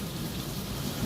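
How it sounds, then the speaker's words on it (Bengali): First rain of the season in Mirpur, falling hard with a low rumble of thunder beneath the steady hiss of rain, loud and continuous throughout with no talking. "প্রথম বৃষ্টি, প্রথম বৃষ্টি মিরপুরের"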